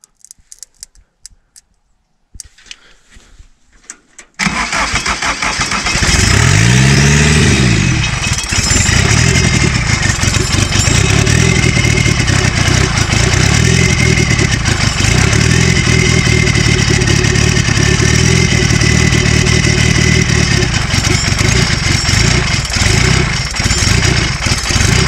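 A frozen buggy fitted with a TDS diesel engine from a Citroën coupé cranks after a few quiet seconds, catches, and settles into a loud, clattering, uneven cold idle close by.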